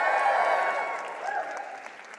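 An audience at a motivational speaking event applauds and cheers, a dense wash of clapping that starts full and gradually thins out over a couple of seconds.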